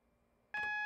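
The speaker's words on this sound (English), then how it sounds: "That alarm is the AWS self-test system." An AWS self-test alarm sounds in the cab of a Class 43 HST in Train Sim World, a sudden bright electronic tone that starts abruptly after near silence and holds steady to the end.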